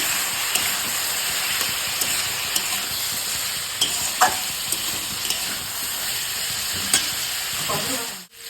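Chili and cumin paste frying in a pan for a Bengali curry, giving a continuous bright sizzle with occasional sharp spits and stirring clicks, then fading out at the very end.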